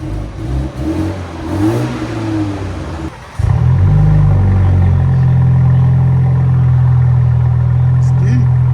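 BMW M430i with a 2.0L turbo engine and straight pipes idling, heard up close as a deep, steady, loud droning rumble that starts abruptly after someone talks briefly at the start.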